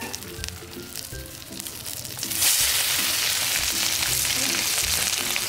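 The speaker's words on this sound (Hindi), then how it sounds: "राई जरेगी या आँच कम कर प्याज डाल दें" Chopped onions dropped into hot oil with mustard seeds for a breakfast thali, the steady sizzle jumping sharply louder midway and holding as a dense close hiss over faint pan sounds.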